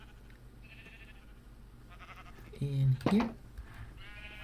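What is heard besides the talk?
sheep bleating in the video game Minecraft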